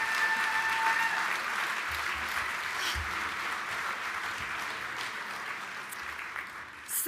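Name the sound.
audience applause at awards ceremony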